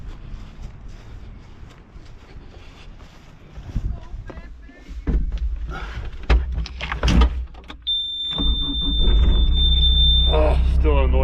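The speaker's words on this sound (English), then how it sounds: "Oh, still an annoying beeper." A Hyundai HX145 excavator's warning beeper sounds as a steady, shrill, continuous tone for about two and a half seconds. It rides over heavy, loud engine rumble and digging noise at a house crawl space dig site.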